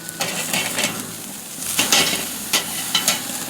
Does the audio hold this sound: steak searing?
yes